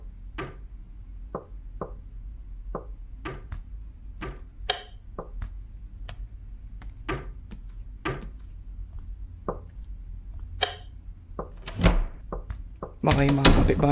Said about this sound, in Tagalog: Saan ang gagaling katok na yun?